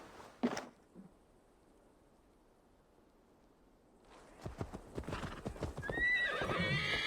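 Horse hooves in Assassin's Creed Valhalla: a whinny and a thud, a quiet pause, then steady clip-clopping hoofbeats that build louder and closer, with another short whinny near the end.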